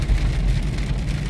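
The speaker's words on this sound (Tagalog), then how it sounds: "malakas yung ulan" Heavy rain in Canada, a dense, steady hiss of falling water with a low rumbling undertone, continuous and fairly loud throughout.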